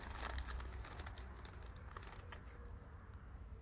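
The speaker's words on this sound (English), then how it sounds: "It's obviously hearing the rustling." A paprika crisps packet being rustled outdoors while feeding a wild fox in Hungary, giving soft, close crinkling bursts that fade over a few seconds against quiet background ambience.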